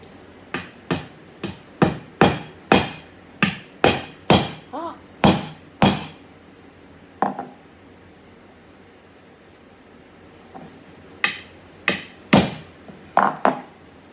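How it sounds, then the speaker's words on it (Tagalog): Small nails driven into wood with a hammer, a rapid run of about a dozen sharp, ringing blows, a pause, then another short burst of strikes, close and loud. "Papako ko siya dito"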